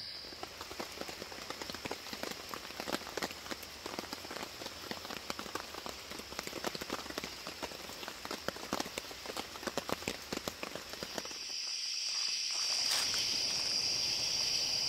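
Steady rain pattering on leaves around a tent at night in the woods, a dense close wash of drops that continues without a break, with faint insect chirring underneath.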